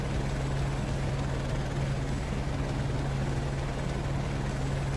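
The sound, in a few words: helicopter flying overhead following racer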